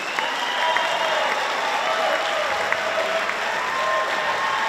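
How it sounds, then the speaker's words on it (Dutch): A crowd applauds a brass band club from Put in Limburg: dense, steady clapping that holds at an even level throughout with no pauses. "Nog een heel groot applaus voor deze geweldige club uit Put."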